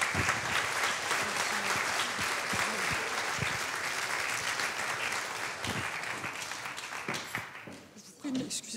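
Steady audience applause at a book award ceremony, dense clapping from a seated crowd held loudly for several seconds before tapering off.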